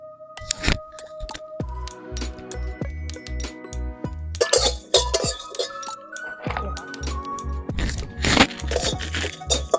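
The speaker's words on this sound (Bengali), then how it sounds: "আমি শুকনো খোলায় নেড়ে নিচ্ছি।" Whole spices (cinnamon, coriander, black cumin, cloves and cardamom) are stirred in a dry pan, giving irregular rattling, clinking and crunching scrapes close up, in bursts with brief pauses.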